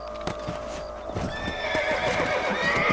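A horse in the Red Dead Redemption video game whinnies while its hooves clip-clop in a steady rhythm, close and fairly loud, with no talking.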